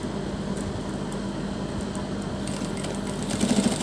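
A sewing machine runs steadily, stitching along the edges of a striped neck design on a garment, with a continuous whirring hum and a brief burst of faster rattling near the end.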